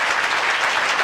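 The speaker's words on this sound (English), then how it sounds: "So clap and tell me no" An audience clapping during a talk, a dense, even burst of applause from many hands, brief and fairly loud.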